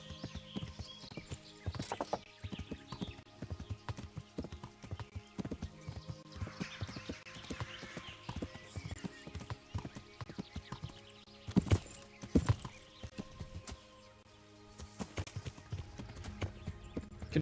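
Horse hooves in the medieval game Kingdom Come: Deliverance, soft rhythmic clip-clop of a trotting horse with a few louder thuds, faint and mixed with ambient game sound and occasional quiet speech.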